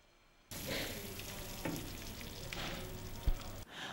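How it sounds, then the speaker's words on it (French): Sugar, glucose and water boiling in a pan for Nancy bergamot candy, a steady bubbling sizzle that is fairly loud and close, with a few sharp pops and clicks and no talking. "Il faut tout d'abord faire bouillir du sucre, du glucose et de l'eau pendant une demi-heure."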